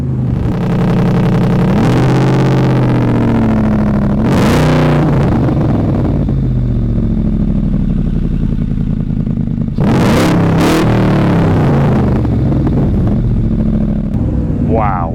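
A Superformance MKIII Shelby Cobra's engine is started and revved, giving a loud, continuous rumble with rising and falling revs and sharp throttle blips, close up. Voices talk briefly over it.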